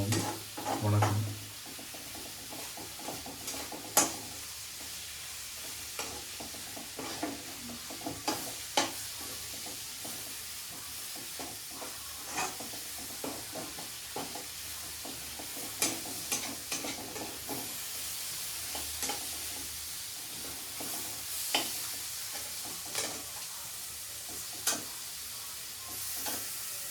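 Masala powder for kurma sizzles gently in a pan while a spoon scrapes and stirs, giving soft clicks and scrapes in an irregular rhythm over a low, constant frying hiss.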